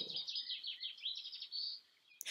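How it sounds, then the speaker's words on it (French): Birds sing and chirp continuously in the countryside, a dense run of high tweets and trills close by, with a brief low rustle at the start and a sharp click near the end. "À la campagne, on voit des champs, de l'herbe, des arbres, on entend les oiseaux, les insectes."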